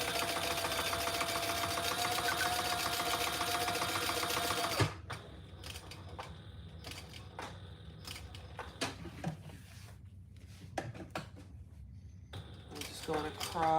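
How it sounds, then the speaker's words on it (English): A home sewing machine top stitches an eighth of an inch from the edge, a steady dense whir for several seconds that cuts off into scattered clicks and handling taps, with occasional speech nearby. "I'm gonna top stitch at that 1/8 of an inch."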